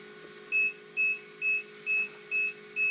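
An egg incubator sounds an electronic alarm as its temperature drops, a clean high beep repeating about twice per second, six times over a faint steady hum.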